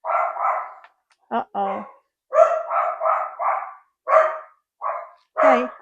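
Dogs at home bark at a delivery in a rapid run of loud, close barks with short pauses between bursts; one person briefly speaks between the barks.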